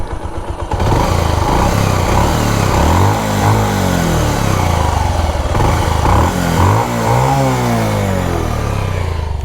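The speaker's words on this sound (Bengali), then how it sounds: "অ্যান্ড এটার ইঞ্জিন সাউন্ড।" An old-model Bajaj Pulsar motorcycle engine runs loud and close, with a steady throbbing idle that swells with throttle blips a few times.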